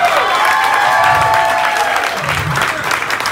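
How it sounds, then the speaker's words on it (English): Loud crowd applause with some cheering at a drag show, close and full, with a voice briefly heard over the clapping. "A round of applause for this lady."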